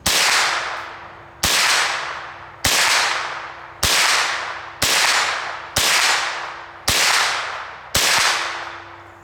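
Eight sharp 9mm carbine shots ring out one at a time at steady intervals of about a second, each a loud crack with a ringing decay that fades before the next, fired outdoors at a target.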